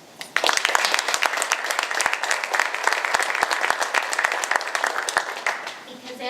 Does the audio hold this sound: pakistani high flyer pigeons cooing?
no